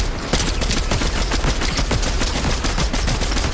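Rapid video game gunfire, including an explosive repeating rifle: a dense, loud burst of automatic shots in quick succession, sustained almost without pause, with no talk.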